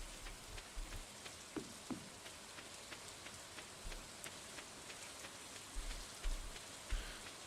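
Steady rain falls in Stardew Valley Expanded near a volcano, a soft continuous patter with scattered individual drops and occasional low thumps, quiet and without voices.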